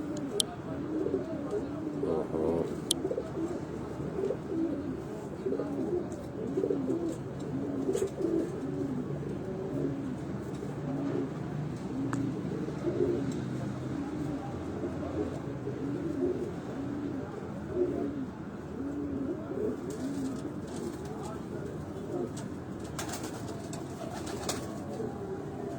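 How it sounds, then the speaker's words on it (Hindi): A pigeon of Ustad Imtiaz Hussain's Lahore breed coos in low rolling bursts throughout, with someone talking intermittently over the birds and faint clicks near the end. "Ustad Imtiaz Hussain chairman of Lahore, उनके घर की ब्रीड का ये कबूतर आपको दिखाया जा रहा है"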